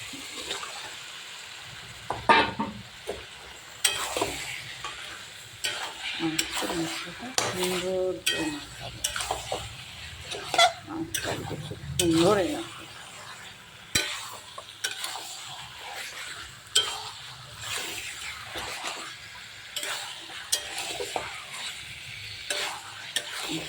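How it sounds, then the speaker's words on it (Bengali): Goat meat tipped into a pot of cooked-down spice masala, then stirred and fried: a sustained sizzle with repeated scraping and clattering of a utensil against the pot, moderately close, with no talking. "এবার আমি মশলার ভিতরে মাংস ঢেলে দেব"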